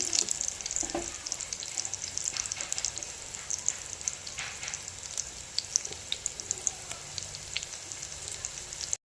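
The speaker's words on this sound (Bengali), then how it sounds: "এগুলো এখন ভাজবো" Drumstick flower fritters fry in hot oil with a steady, crackling sizzle. The sizzling runs close and continuous, with small pops and spits scattered through it and no voice over it.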